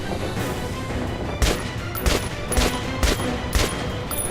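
A Kalashnikov fitted with a night-vision scope fires at a lamp in the Metro Last Light video game. Five sharp single shots ring out at a steady, roughly half-second rhythm over a constant low background hum.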